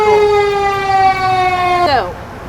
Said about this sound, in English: Now that the fire truck is on there,